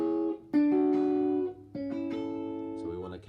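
An electric guitar plays a short blues riff with a muted middle string accidentally struck between the notes, giving a few close, sustained twangy double-stops with slight buzz.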